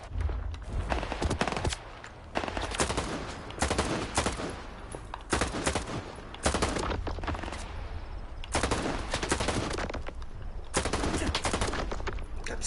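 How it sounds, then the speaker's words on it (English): Rapid bursts of automatic gunfire from S.T.A.L.K.E.R. 2, loud, close and mechanical, repeat in several clustered volleys with brief pauses between them, with no talk over them. "Got such a meaty headshot sound."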